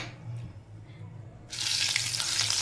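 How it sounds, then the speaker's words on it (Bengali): Turmeric and salt go into hot oil in a wok. After a quiet stretch, a loud, bright sizzle bursts in suddenly and keeps going steadily to the end. "কড়াতে তেল দিয়ে দিয়েছি, তেলটা একটু গরম হয়ে এসছে। এর মধ্যে সামান্য একটু হলুদ আর একটু নুন দিয়ে দিচ্ছি"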